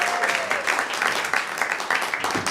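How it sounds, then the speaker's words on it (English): An improv comedy show audience claps for returning performers, steady applause with some individual claps standing out and a faint voice or whistle at the start. "Give them some applause as they come back in."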